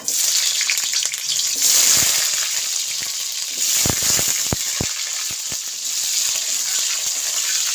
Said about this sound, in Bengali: এবার আমি দিয়ে দিচ্ছি আলুগুলো।